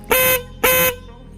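An old horn refitted and adjusted on a Maruti Suzuki Swift car sounds two loud, steady honks, each lasting about a quarter second, close by with a short gap between them.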